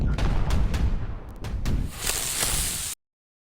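Armed ants trade fire in the Ants With Guns demo, a fairly quiet stretch of rapid gunshot pops and bursts over a rumbling battle bed, ending abruptly in silence.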